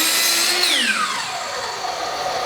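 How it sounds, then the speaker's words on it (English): A circular saw whines loud and steady, its pitch sliding downward as it spins down after finishing a crosscut through a board in a crosscutting box. "Put the saw in the kerf"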